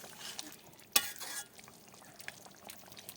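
Goat meat curry stirred in a cooking pan with a little water added, giving soft scraping and faint sizzling, with one sharp clink of the spoon against the pan partway through.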